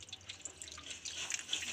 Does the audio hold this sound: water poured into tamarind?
yes